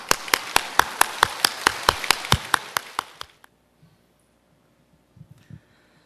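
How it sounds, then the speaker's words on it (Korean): A church congregation in Korea claps together in welcome for a returning missionary, about fifteen sharp rhythmic claps lasting three seconds before stopping, followed by near silence with faint shuffling. "한번 환영의 박수를 한번 하실 때"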